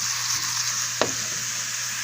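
Mushrooms cooking in a pan on low heat, a constant bright sizzle and hiss throughout with one brief click or tap partway, close and steady.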